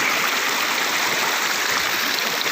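A river stream rushes around large rocks midstream, a steady close wash of flowing water with no pauses and no voices.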